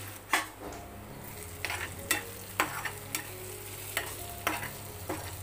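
Chopped tomatoes soften in a covered pan for a curry of koramenu fish, with a low simmer under intermittent clinks and scrapes of a spoon against the pan, quiet and close.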